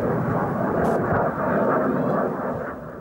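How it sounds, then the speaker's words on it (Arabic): A Syrian MiG-21 warplane roars down near the Turkish border in rural Idlib, a loud, sustained low aircraft rumble with a brief dip midway before it slowly fades. "هذه اللحظات الأولى لسقوط الطائرة الحربية السورية في ريف إدلب عند الحدود التركية السورية."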